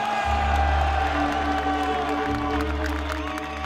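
A large outdoor crowd at the 1989 German reunification celebration cheers continuously, a dense roar of many voices with whoops rising and falling at a steady loud level throughout.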